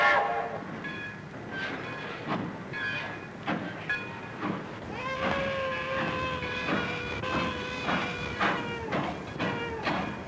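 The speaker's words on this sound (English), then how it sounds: "Stop the train. Stop the train immediately." A 1932 film's train rolls along with rhythmic clacking, a sustained horn-like tone entering midway, steady and moderately loud throughout.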